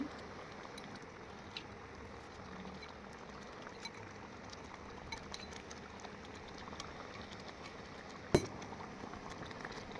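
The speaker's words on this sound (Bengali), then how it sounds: "দই কাতলার ঝোলটা ফুটে গেছে" Yogurt katla fish curry simmering in a pan gives a quiet, steady bubbling patter, with one brief sharp clink near the end.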